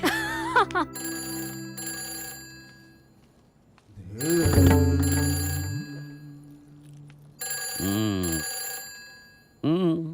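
A telephone rings in repeated bursts of electronic ringtone, loud and close, alternating with stretches of speech and music in a Hindi comedy film scene.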